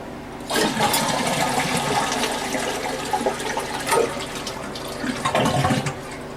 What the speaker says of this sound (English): we're going to flush it and drain the water out of the tank